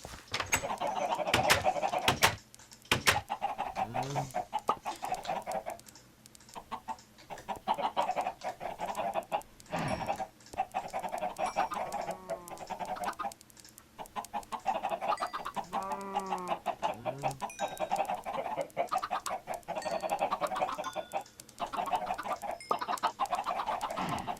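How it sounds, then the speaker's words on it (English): Chickens in the Minecraft video game cluck repeatedly throughout, several birds near and loud over a steady background of game noise and footsteps. "Alright, let's make ourselves some chickens."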